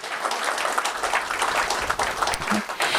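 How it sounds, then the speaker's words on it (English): Warm, dense applause from a community gathering honoring a parade organizer and marchers, continuous clapping at steady volume, close and full, with a few faint voices. "So a round of applause for Karen and everybody who marched."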